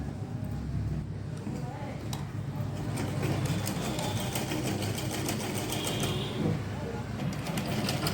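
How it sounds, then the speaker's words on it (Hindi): A sewing machine runs steadily, stitching a strip onto a baby suit (jhabla), with a continuous close mechanical whir throughout. "इधर से हमने पट्टी को सिलाई करनी है।"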